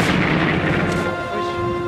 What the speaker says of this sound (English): Tanks led the way, grinding over the rubble and firing point blank into courtyards.